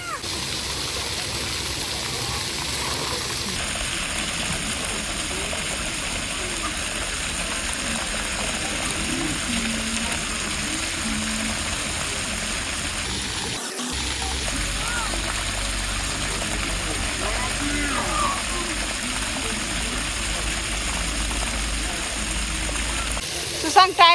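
Water sprays and splashes steadily at a children's spray park, a dense continuous rush heard close with a faint low rumble beneath, while a voice talks quietly over it.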